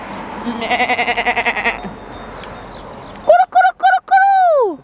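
Goats bleat loudly and close by in the mountains, first a rapid wavering cry, then several short sharp calls ending in a long drawn-out bleat.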